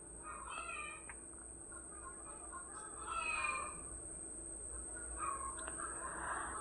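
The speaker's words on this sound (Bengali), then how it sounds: "আমার মুরগিগুলো সকাল হইলে মানে এত পরিমাণ বিরক্ত করতেছে, কি ডাকাডাকি শুরু করছে।" Chickens call out in short, repeated squawks and clucks in the morning, fairly faint against a quiet background with a steady high electronic whine, and no one speaks.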